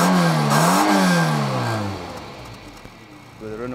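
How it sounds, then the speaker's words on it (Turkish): A Renault 11 Flash S engine revs and rumbles up and down through the exhaust, then settles to a lower idle with a brief rise at the end. "bu otomobilde çok tatlı bir egzoz homurtusu vardı."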